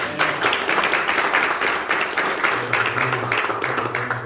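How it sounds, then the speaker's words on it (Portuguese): A church congregation claps together in a fairly dense, even patter that continues for several seconds, with a low hum underneath. "Vamos aplaudir o Senhor."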